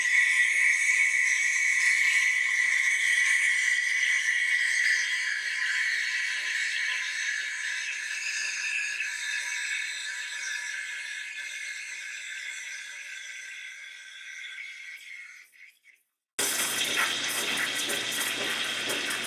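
A steam wand hisses loudly and steadily, the tone slowly softening as milk froths, then cuts out briefly before a rougher, noisy burst resumes.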